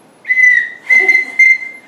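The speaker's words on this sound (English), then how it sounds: "A whistle." A shrill, steady whistle blown close by in three quick blasts, the tone holding level through each with brief gaps between.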